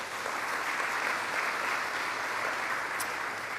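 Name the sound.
audience applause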